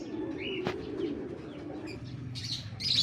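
Racing pigeons back from a training toss from Muñoz, Nueva Ecija coo softly at the loft, with a few brief chirps and faint wing movement over quiet outdoor background.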